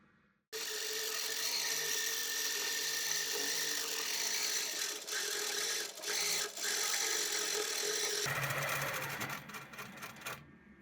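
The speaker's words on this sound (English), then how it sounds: "So from here, I'm going to now quilt this whole pattern." A longarm quilting machine stitches a pantograph pattern across a quilt with a steady, loud, high mechanical whir and rapid needle chatter that runs continuously, briefly dipping and shifting in tone toward the end.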